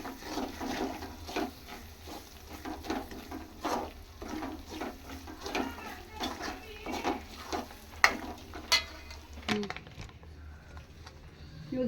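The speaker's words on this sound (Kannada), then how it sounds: "ಇದು ಸ್ವಲ್ಪ ಎಣ್ಣೆಲೆ ಚೆನ್ನಾಗಿ ಫ್ರೈ ಆಗಬೇಕಿದು" Spice masala for a 5 kg batch of North Karnataka mango pickle frying in oil, with rhythmic stirring strokes and a light sizzle heard close up, ending in a brief clatter; no talk.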